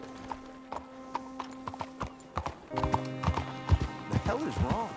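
Horse hooves clip-clopping in Red Dead Redemption 2, irregular thuds that quicken into a steady trot, with a horse whinnying and snorting close by while people talk over the hoofbeats and a musical score plays beneath.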